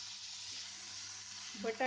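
Onion and potato frying in oil for a Goan oyster curry, a steady broadband sizzle close by that swells louder near the end as ingredients are added or turned.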